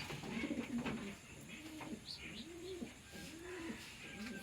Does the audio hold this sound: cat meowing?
no